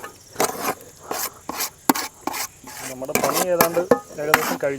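A ladle stirs a pot of Kerala-style tapioca (kappa) biryani in a run of rhythmic, close scraping strokes against the pan. There are brief pauses between strokes, and a faint voice-like murmur appears toward the end.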